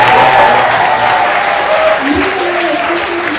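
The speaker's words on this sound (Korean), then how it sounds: "박수" A large audience claps steadily and loudly at a book concert event, the applause sustained and dense throughout with a faint voice speaking underneath.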